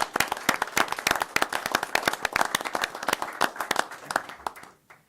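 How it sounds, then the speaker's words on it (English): A council meeting audience claps together, a brisk stream of individual hand claps from a modest crowd that rises, holds steady, then thins out and stops near the end. "but we should probably clap."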